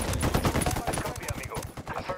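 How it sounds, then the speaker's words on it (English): Rapid gunfire while shooting at enemies in Ghost Recon Wildlands, dense overlapping bursts of automatic shots close and loud throughout, with speech mixed underneath. "I'm opening fire on these shitheads."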